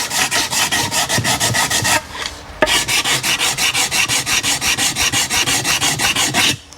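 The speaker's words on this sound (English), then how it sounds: "I just want to clean the surface. So just a few swipes." Steady rhythmic rasping strokes of a file rubbed back and forth across a Ford 302 engine gasket surface on an 1986 truck, loud and close, with a brief pause midway before the even swipes resume.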